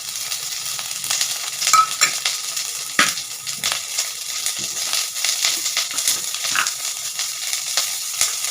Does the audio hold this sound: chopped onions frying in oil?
yes